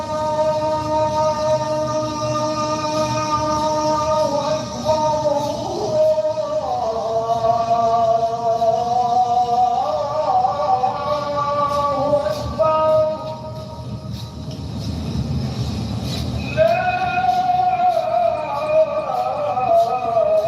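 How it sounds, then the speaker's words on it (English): An Islamic call to prayer, sung through a loudspeaker in Dearborn, Michigan. Long, sustained melodic phrases carry continuously over a steady background rumble, sounding amplified and somewhat distant. "That's a call letting them know it's time to pray."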